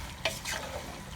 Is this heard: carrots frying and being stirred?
yes